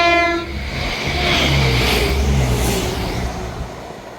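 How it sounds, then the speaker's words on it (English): A Scotrail passenger train from Edinburgh Waverley to Aberdeen runs through Monifieth station with a loud, sustained rumble and rising clatter of wheels on rail. A horn tone sounds at the start, and the noise swells and fades slightly as it passes. "Passing through now is the delayed 1654 Scotrail service from Edinburgh"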